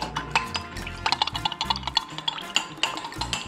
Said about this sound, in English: And now I'm gonna stir it to blend together.